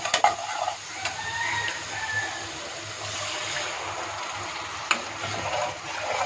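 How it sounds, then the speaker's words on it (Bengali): Ground salt, turmeric, chili and coriander powder frying in a pan for a bottle gourd and shrimp curry, a soft steady sizzle with occasional sharp scrapes and clicks of stirring. "সম্পূর্ণ মশলাটাকে খুব ভালো করে একটু কষিয়ে নেব"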